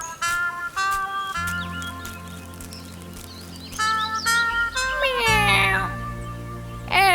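Cartoon cat meowing in a Hindi kids' animation about an aging cat and mice, several drawn-out mewing calls over background music, clear and fairly close.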